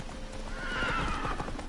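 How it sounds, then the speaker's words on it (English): In The Witcher 3, a horse's hooves clop near and clear while it gives a loud neigh, all inside a short burst with no one speaking. "Whoa there, Roach"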